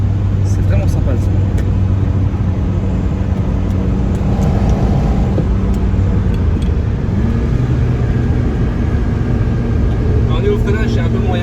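A Ferrari 308 GTB engine drones loudly and continuously while driving, a deep steady roar with road noise, and people talk over it inside the car.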